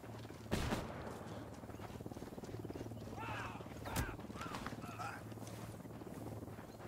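Flashbang and gunfire in the Ghost Recon Wildlands video game: two sharp, loud bangs about three seconds apart over a steady background din of combat noise, with faint voices.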